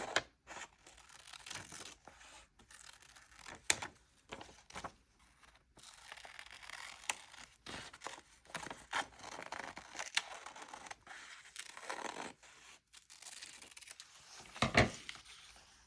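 Magazine paper being fussy-cut with scissors: quiet, close snips and crinkly rustles of handled pages come in irregular bursts, with a few sharper crisp cuts scattered throughout.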